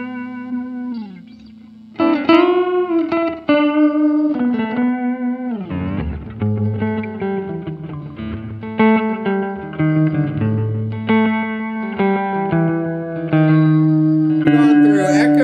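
An instrument runs through Electro-Harmonix effects pedals with echo, filters, tremolo and rotary modulation, producing loud sustained warbling tones, swooping pitch bends, chorused distortion and trailing echoes that shift from phrase to phrase.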